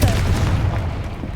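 A Confringo blast spell detonates in a Hogwarts video game, a loud, dense boom that rumbles on for the whole moment.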